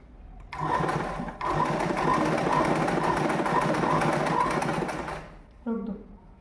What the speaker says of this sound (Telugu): పైన స్టిచ్ చేసేసుకుంటా.